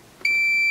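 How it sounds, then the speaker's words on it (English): After a brief click of the probes, a multimeter on a continuity test emits a sudden loud, steady high-pitched beep that holds unbroken to the end while checking a Heathkit IT-7400 IC tester under repair. "In fact, I can probably verify that by doing a continuity test."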